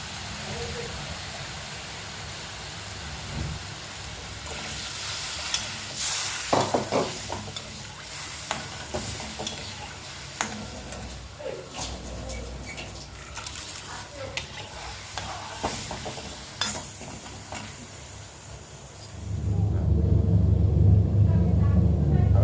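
A date and tamarind mixture poured into a pan bubbles and sizzles with scattered stirring clatters and scraping, ending in a louder steady frying roar; a voice is heard talking at times.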